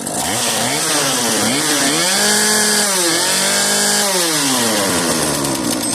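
A Homelite gas string trimmer engine runs close and loud, its pitch rising and falling as the throttle is revved up and eased off repeatedly, with no voices.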